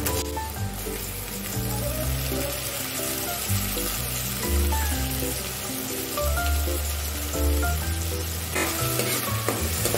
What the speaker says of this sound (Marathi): पेस्टला आपण चांगलं परतून घेऊया।